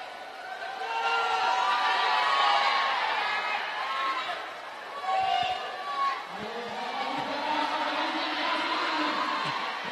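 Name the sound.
crowd cheering at a roller derby bout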